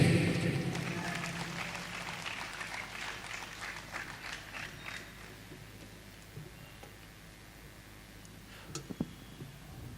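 An audience at a 25th anniversary celebration applauds to welcome the guest speaker, a film actor; the clapping starts fairly loud, then thins into scattered claps and fades to faint room noise.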